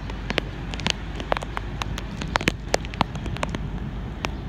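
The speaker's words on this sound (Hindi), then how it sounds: "बहुत ही अच्छी बारिश हो गई है, अभी स्लो हो गई है माशाल्लाह।" Rain falls steadily outdoors, with scattered distinct drops pattering on surfaces over a continuous soft hiss, at moderate loudness throughout.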